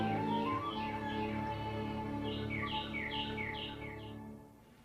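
Birds in the Everglades call with repeated descending chirps and whistles, some in quick overlapping runs, over a steady low hum. The calls fade out near the end.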